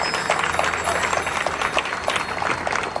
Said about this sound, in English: Let's give everybody a round of applause for showing out and showing up.